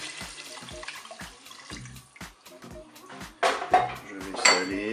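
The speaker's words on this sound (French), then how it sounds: "Je vais maintenant verser l'eau." Water is poured into a Cookeo electric pressure cooker pot among clinking metal and cookware knocks, building into a louder splashing gush toward the end.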